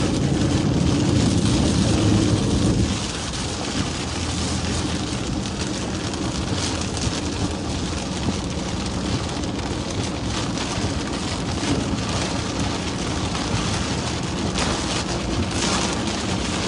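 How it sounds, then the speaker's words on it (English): Heavy rain at the edge of a storm is a loud, constant roar of downpour that swells at the start and then stays dense and even throughout; no distinct thunder clap stands out. "You can always tell when you're right on the edge of a storm."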